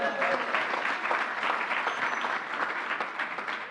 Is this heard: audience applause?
yes